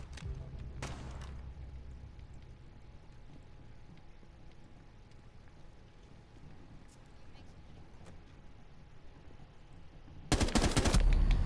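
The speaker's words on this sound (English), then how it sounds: "I shouldn't have tap fired that." Gunfire in Rainbow Six Siege, a few sharp single shots early on against a quiet background, then a dense loud burst of fire near the end.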